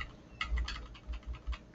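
Computer keyboard arrow keys tapped repeatedly while moving through an Excel spreadsheet, a quick run of light, close clicks in an uneven rhythm with no voices.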